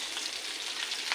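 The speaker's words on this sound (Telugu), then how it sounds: "ఎల్లిపాయ తాలింపు వేసింది" Garlic tempering is added to a spoonful of hot oil and crackles in a brief, steady, moderately soft sizzle with no talking.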